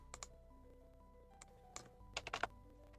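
Brief bursts of keyboard typing, a few isolated key taps followed by a quick cluster of keystrokes near the end, quiet and close against a faint background hum.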